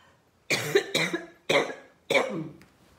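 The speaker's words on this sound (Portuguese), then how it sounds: "Tô com tosse." Four short coughs in quick succession, close and fairly clear, with brief pauses between them.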